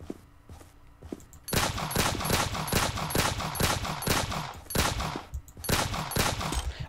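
Video game gunfire: after a quieter start, a long, loud, sustained run of rapid automatic shots in steady rhythm, close and continuous to the end.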